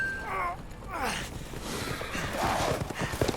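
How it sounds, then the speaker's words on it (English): Horse hooves clip-clop under werewolves riding horses in Resident Evil Village, faint and mixed with game sound effects and a voice talking over them. "Werewolves riding horses in a Resident Evil game."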